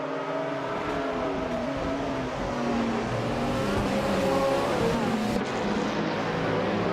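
Several race cars roar off the start of an LMP2-class race at Lakeside Park, a 2017 Nissan DPI on pole among them, in a loud, steady multi-engine drone that swells slightly over the seconds.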